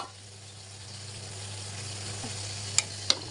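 Catfish added to a hot pan of spiced curry on a gas stove, giving a steady low sizzle with a couple of sharp metallic clinks near the end.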